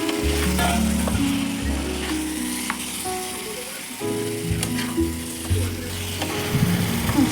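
Mutton with a splash of water is sautéed in a pan, a loud, close, steady sizzle broken by scraping stirs and occasional clinks of the utensil against the pan, with no talking.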